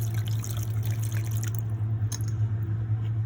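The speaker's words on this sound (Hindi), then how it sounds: "इसमें मैं आधा गिलास पानी डाल रही हूँ।" Half a glass of water poured into a microwave idli steamer frame, a steady close liquid pour and trickle over a constant low hum, slowing to faint drips near the end.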